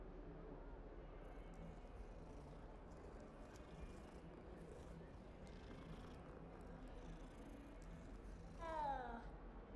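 A cat in Hogwarts Legacy purrs low and quietly under a soft background hum, then gives one short, rising meow close to the end.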